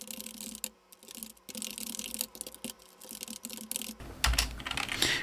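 Ctrl-key shortcuts pressed on a computer keyboard while formatting a Hancom Office document, with a close, busy run of plastic key clicks and taps and brief pauses between bursts.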